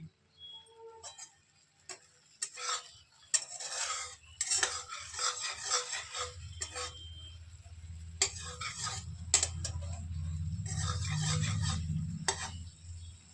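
A spoon stirs milk with oil floating on top in a pot over a low flame on the stove, making quick metallic ticks and scrapes in uneven bursts over a soft low rumble.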